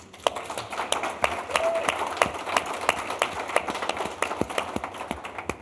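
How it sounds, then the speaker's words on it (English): An audience at a creative writing celebration at Memorial University claps, a modest room of scattered, distinct hand claps of moderate loudness, with some murmuring in the background. "And I think that deserves a round of applause."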